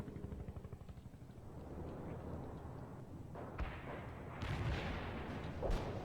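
Artillery shells land in the World in Conflict video game as a continuous low rumbling barrage, with a few heavier booms rising toward the end, dense and distant-sounding, with no speech.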